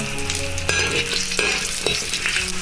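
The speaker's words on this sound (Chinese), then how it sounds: "加入少许花生油，把姜片放进来爆香" Ginger slices stir-frying in a little hot peanut oil, a close, steady sizzle broken by several sharp scrapes and clatters of a spatula against the wok, with no talking.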